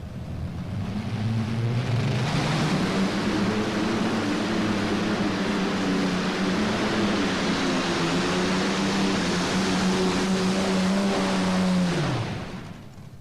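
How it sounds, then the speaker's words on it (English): An old Ziegler Brothers P38 pulling tractor roars at full power during a tractor pull, a loud sustained engine drone with shifting pitch that holds steady for about ten seconds before cutting off abruptly. "the old Rich Ziegler tractor, Ziegler Brothers, Richard Jr., Rich Ziegler, the old P38"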